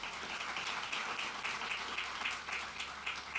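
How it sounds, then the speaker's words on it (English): Faint, distant audience applause at a NASA event: a steady wash of clapping that stays even and low throughout, with no voices over it. "So give him a round of applause."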